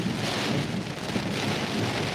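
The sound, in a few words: rain and wind from a storm hitting the truck windshield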